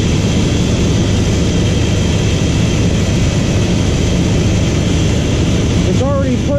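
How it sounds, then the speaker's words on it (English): A car engine idles steadily while its cooling system is being bled, a loud, even drone with constant low hum and no change in pace, heard alone. "Now just let her sit and run."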